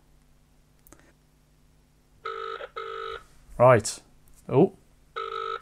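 A cheap U8 smartwatch places an outgoing phone call, giving three evenly spaced electronic ringback tones. A person talks briefly between the tones.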